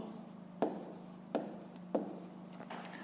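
A pen writes on paper while a fifth-grade math exercise is worked through: three distinct scratchy strokes come at even intervals, then lighter scribbling follows, all close and quiet with no talking.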